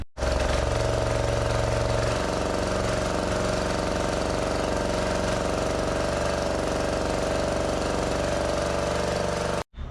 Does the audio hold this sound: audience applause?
no